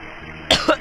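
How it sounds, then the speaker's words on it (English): A single person coughs twice close to the mic after a brief quiet stretch, each burst sharp and loud, ending with a third short cough. "I'm gonna cough."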